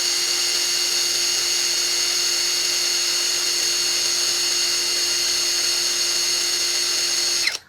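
An APR AP84+ impact wrench runs continuously at high speed while tightening, a loud steady whine with a constant tone that cuts off abruptly at the end.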